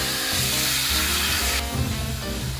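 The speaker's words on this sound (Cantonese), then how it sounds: "整晒肉絲落去" Shredded half-fat pork stir-fries in a wok over high heat, a loud, continuous sizzle with stirring scrapes, the hiss turning brighter partway through.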